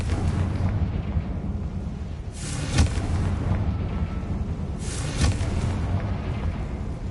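Confringo fire spell in the game Hogwarts Legacy, cast inside a room: two deep booming blasts about two and a half seconds apart, each a sudden burst with a short rumbling tail over a steady low game ambience.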